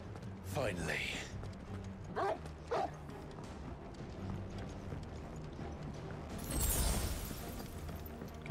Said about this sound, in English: He's barking at the birds.